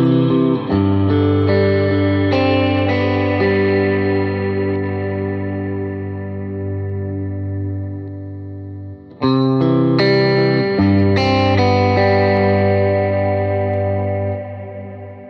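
Electric guitar on a worship pedalboard moving between the big setting of a Golden reverb and a Black Hole reverb, two strummed chord passages ringing out into huge sustained ambient tails, a brief dip separating them.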